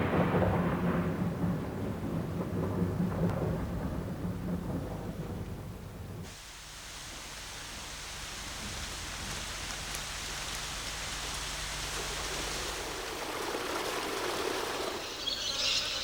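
Heavy monsoon rain in Kakadu, northern Australia, a steady loud downpour with a low rumble of thunder, shifting to dense hissing rainfall partway through.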